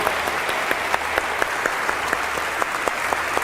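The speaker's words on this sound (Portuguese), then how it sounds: "um forte aplauso para as madres, por favor" Steady applause from an audience honoring mothers on Mother's Day, a dense even wash of clapping with a few sharper claps standing out, continuous and fairly loud throughout.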